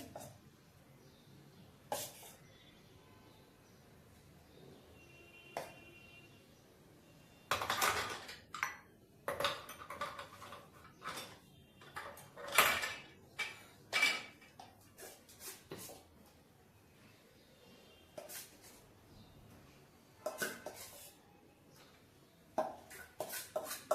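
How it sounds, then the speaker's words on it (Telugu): Metal idli plates are handled and clinked one after another while being rubbed with oil, giving scattered light knocks and scrapes that grow busier partway through, close by over quiet background. "ఇప్పుడు వీటన్నిటితో నేను ఆయిల్ రుద్ది పెట్టేస్తాను అనమాట."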